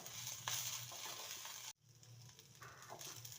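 Fried bitter gourd and browned onions being stirred together in a pan, a steady sizzle with scraping strokes, broken by a brief pause midway before the frying noise resumes.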